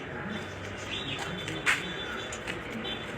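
King pigeons cooing softly in a cage at a pigeon shop, a low, steady murmur with a faint brief chirp partway through and no talking.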